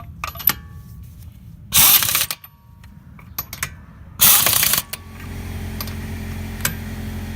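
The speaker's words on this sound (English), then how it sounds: "now we tighten up the wheels" A ratchet tightens car wheel lug nuts close up, giving short clicking runs and two loud, harsh bursts that sound like a power tool, then a steady low background hum.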